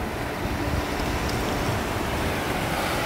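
Surf rolls onto a shell-strewn shore at Myrtle Beach, South Carolina, a steady, loud roar of breaking water mixed with wind buffeting the microphone and no voices.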